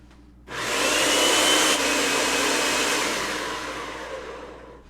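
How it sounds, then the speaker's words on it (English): A blender whirs loudly and continuously as it blends hummus with aquafaba, starting abruptly after a quiet moment and then easing slightly as the mix thickens and clogs. "We're going to get this blended again."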